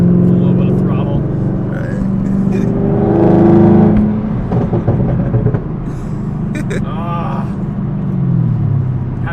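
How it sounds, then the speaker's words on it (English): A Camaro ZL1 engine revs and rumbles under throttle, a deep exhaust note rising and falling nearby, with people talking over it. "Love this exhaust. It sounds so mean."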